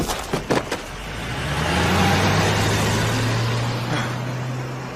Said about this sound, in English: Then I heard one skid to a halt and reverse at speed.